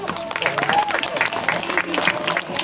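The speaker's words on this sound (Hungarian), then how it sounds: "Tapsoljuk meg őt!" Audience applause at an outdoor dog show demonstration in a Hungarian village, a short burst of dense clapping with voices mixed in.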